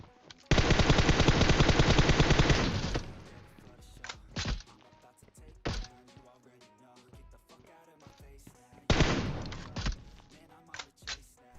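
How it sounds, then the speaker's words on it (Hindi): Gunfire from AWM and MK14 rifles in the mobile game PUBG Mobile: a long rapid automatic burst, then scattered single heavy shots and another burst, loud and close, with no speech. "AWM के साथ साथ ये लोग MK14 भी चला रहे हैं"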